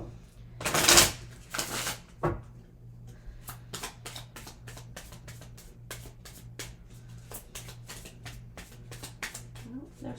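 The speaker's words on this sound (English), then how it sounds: "I'm going to go ahead and shuffle these again." Tarot cards being shuffled by hand, a couple of loud riffling bursts followed by a long run of quick, crisp card flicks in a steady rhythm, close and fairly quiet with a low hum underneath.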